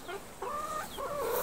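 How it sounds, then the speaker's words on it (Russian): Chickens sheltered under a breezy farm canopy on a hot day, giving a few short clucks and quavering calls in quick succession, fairly quiet and nearby. "Мне кажется, самое кайфовое это вот этим курицам."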